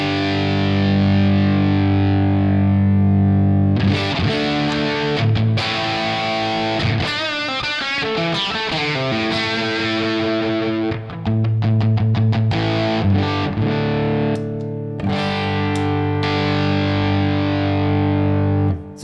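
Electric guitar played through a boost pedal with the boost level being adjusted, a loud, continuous distorted tone shifting between sustained chords and quicker picked passages, with short breaks between phrases.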